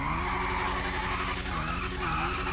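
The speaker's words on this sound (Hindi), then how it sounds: "दोनों बाइक की एक बार एग्जॉस्ट नोट सुनाता हूँ बस" A motorbike engine in the GTA 5 video game drones with a steady exhaust note that dips and rises slightly, loud and close throughout.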